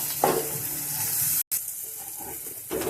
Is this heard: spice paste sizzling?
yes